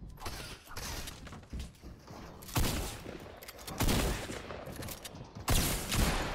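Bursts of gunfire in a Fortnite match, repeated volleys at irregular intervals with loud sharp impacts between quieter mechanical clatter, and no speech.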